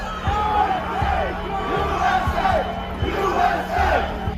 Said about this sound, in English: the crowd began chanting, "USA,